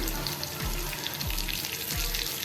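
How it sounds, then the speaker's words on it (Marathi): Crushed garlic and curry leaves sauté in an oily pan for a dhaba-style spicy veg Maratha, a steady soft sizzle that stays close and quiet throughout, with no talking. "कढीपत्ता पण आपण परतून घ्यायचा आहे"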